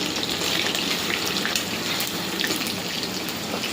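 Chicken frying steadily in hot oil, a continuous dense sizzle with occasional brighter pops and crackles, close and even throughout with no talking.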